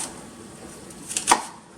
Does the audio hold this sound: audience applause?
no